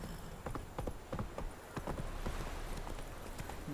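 Roach, the horse in The Witcher 3: Wild Hunt, trotting with a steady, even clip-clop of hooves over a constant ambient bed of background noise.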